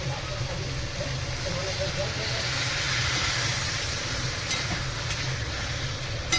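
Water poured into half-boiled taro, papaya and potato in a hot pan for prawn chorchori, giving a steady broad hiss and sizzle that swells slightly midway, close and continuous.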